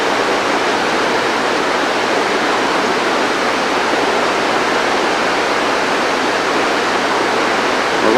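Blow-off from the Ragged Chutes compressed-air hydropneumatic plant, several hundred feet downriver, makes a steady, dense roar of rushing water that holds without a break.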